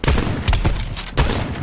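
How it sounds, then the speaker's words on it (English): Sniper rifle fire in a video game: three sharp, loud shots ring out in quick succession, each with a short booming tail, about half a second apart. "Sniper fire."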